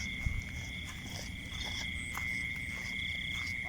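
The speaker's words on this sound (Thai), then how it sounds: "เฮ้ยกบใหญ่ว่ะ" A big frog croaks at night amid a steady insect drone and dense outdoor background noise, the croaks low and rumbling beneath the constant high buzz.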